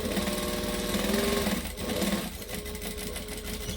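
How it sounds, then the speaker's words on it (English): A domestic sewing machine stitches forward and back-stitches along the folded edge of a Selene bag, a steady close mechanical whirr with a short pause and change of pace midway as it reverses. "So we're going to start at the foldy bit, stitch and back stitch"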